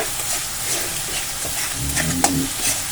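A spoon stirs yogurt into spices frying in a pan, giving a steady close sizzle with scraping strokes and a sharper clack near the middle.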